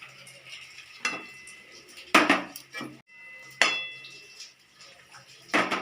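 Rohu fish pieces dropped one at a time into a pot of boiling gravy, giving a few separate clattering splashes and utensil clinks close by, with quiet gaps between them and no talking.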